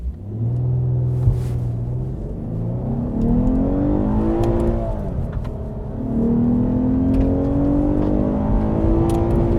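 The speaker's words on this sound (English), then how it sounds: "2020 Lexus IS350 F Sport Series 3 all-wheel drive without launch control" A 2020 Lexus IS350 F Sport all-wheel drive accelerates hard from inside the cabin without launch control, the engine droning and rising in pitch through several gear shifts, loud and continuous.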